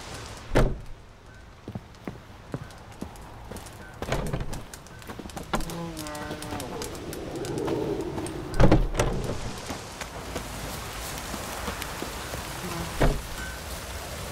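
Steady heavy rain in The Witcher 3 fills the scene, with occasional thuds and knocks cutting through the constant wash of downpour.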